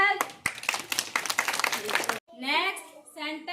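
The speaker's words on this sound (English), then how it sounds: "Very good. Clap yourself." Students at a school morning assembly clap together in a loud, fast burst of many hands, close and sharp, then it stops abruptly and children's voices follow.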